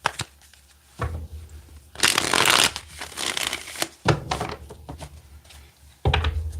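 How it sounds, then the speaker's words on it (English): A deck of tarot cards is shuffled up close in several bursts: riffling flutters and soft slapping as the cards are gathered and squared, separated by short quiet gaps. "Let's get one more good shuffle here for Pisces."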